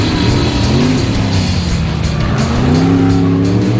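AMC Javelin hot rod race car with a failing cherry bomb muffler roaring past on track, loud revving engine with shifting pitch and tyre noise, close and continuous without speech.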